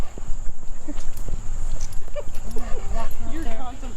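A dog out on a walk by a reservoir whimpers and yips near the microphone, with footsteps and rustling along the path while people talk throughout.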